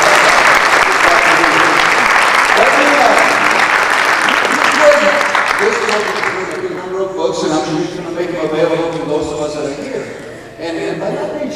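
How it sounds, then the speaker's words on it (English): An audience claps loudly and steadily for about six seconds in honor of a speaker, then the applause thins out as people begin talking over scattered laughter. "So let's give him a big applause."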